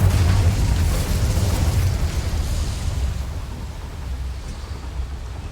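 An Incendio fire spell from a Harry Potter video game erupts as a loud roaring blast of flame, a rushing, crackling burst that slowly tapers off over several seconds.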